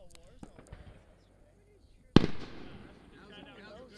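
A single loud firework bang bursts out partway through, followed by a crackling, fading tail. Faint voices and quieter background sounds come before it.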